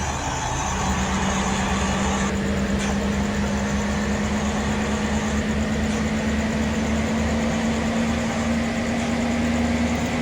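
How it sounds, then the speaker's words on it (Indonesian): Stock Hino 500 truck diesel engine revving to high RPM, a loud continuous rumbling drone whose pitch climbs slowly and steadily throughout, with no voices. "lanjut untuk tarikan kick on atau tarikan RPM tinggi"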